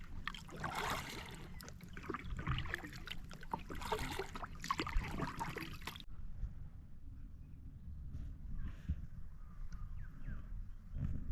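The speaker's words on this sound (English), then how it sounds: "I'm kayaking through Lake Eildon." A kayak moves across Lake Eildon with soft paddle splashes and trickling water, louder at first and then quieter and more open, with no talk.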